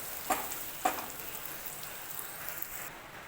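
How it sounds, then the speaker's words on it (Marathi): Coconut and sesame paste roasting in oil over a low flame, a soft, faint steady sizzle with two brief clinks of a utensil near the start, no talk. "कमी गॅसवर मस्तपैकी आता तेल सुटेपर्यंत चांगले वाटण आता मी भाजून घेतलेलं आहे"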